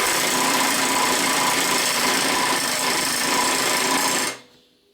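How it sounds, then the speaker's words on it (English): A stuck drill chuck on a drill, being worked loose in a motorcycle workshop, gives a loud steady grinding whir for about four seconds before cutting off abruptly into near silence. "Trying to get my drill chuck out."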